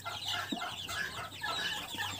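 Month-old chicks in a backyard poultry flock, clucking and cheeping in soft overlapping calls with a few lower clucks, close by and without talk.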